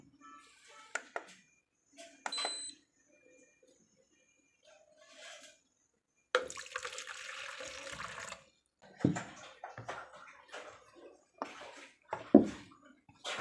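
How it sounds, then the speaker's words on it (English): Water poured and measured for making turmeric and activated charcoal soap, in short splashy bursts separated by quiet gaps, with a longer steady pour in the middle, close by and fairly soft. "So we'll now measure out our water."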